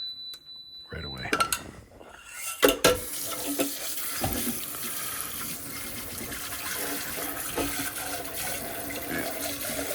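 Tap water gushes steadily into a pot left to soak after making instant mashed potatoes, opening with a few metallic clanks and knocks before settling into a loud, continuous rushing stream at the sink.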